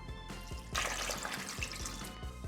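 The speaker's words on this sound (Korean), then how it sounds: "물은 고기가 잠길 만큼 부어주세요" Water pours into a pot of oxtail meat with green onion, onion, ginger and garlic, making a continuous close splashing gush that grows fuller partway through, with no talking.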